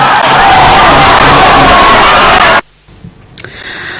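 A relieved crowd cheers after an arrest, a loud continuous roar of shouting and whooping voices that cuts off abruptly after a few seconds, leaving quieter background noise.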